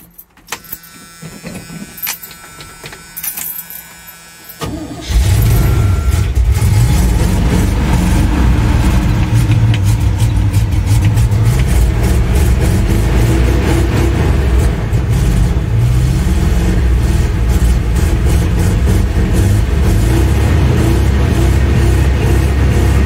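Chevy C20 pickup truck engine started cold: keys rattle and a cranking stretch give way to a loud catch, then a steady close rumbling idle that holds with a slight uneven lope.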